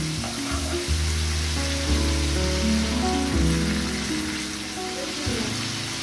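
Fish roe sizzles steadily in a pan, a close continuous fry with a low musical tone running underneath.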